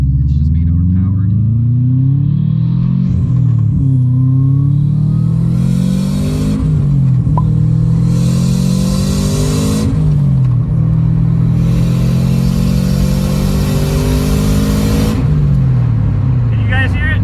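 A car engine revs repeatedly in rising, falling sweeps, loud and close, with bursts of airy hiss between revs that could be a weak blow-off valve; talk is faint beneath the engine.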